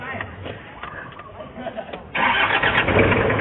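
A rocket-front passenger van's engine cranks for about two seconds and then catches, settling into a loud, steady idle close by, with a voice partly heard over the cranking.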